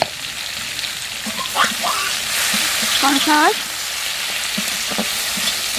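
Cleaned prawns with a little salt fry in hot oil for prawn chow mein, a continuous crackling sizzle up close, with a voice speaking briefly in the middle over the frying.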